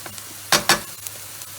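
Minced meat for chilli con carne fries in a pan, a faint sizzle broken by two quick close scraping pushes of a utensil, brief and without speech.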